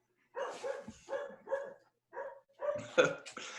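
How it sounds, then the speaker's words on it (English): Dogs bark indoors in several short bursts of two or three sharp barks each, loud and close, with brief silent gaps between volleys and a busier cluster at the end. "My dogs are going crazy."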